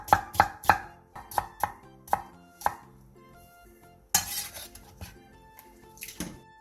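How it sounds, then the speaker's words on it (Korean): A knife cuts potatoes into thin julienne strips on a cutting board, giving a quick series of crisp chops that slow and fade, followed by a clattering of kitchenware and a few clinks, close and fairly quiet. "큰 사이즈의 감자 3개를 취향에 맞는 두께로 채 썰어주세요."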